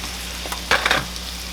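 Peppers fried in a pan for a seafood dressing: a steady soft sizzle with a brief louder crackling burst near the middle.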